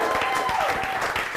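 Audience applause at a live fantasy role-play show send-off, a dense steady wash of clapping with a voice or tone gliding through the middle, brief and fairly loud throughout.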